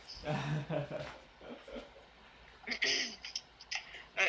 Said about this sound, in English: as you could probably hear from my ridiculous keyboard, I have a old school mechanical keyboard